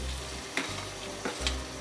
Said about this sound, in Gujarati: આ ટમેટું ડુંગળી સારી રીતે તળી જાય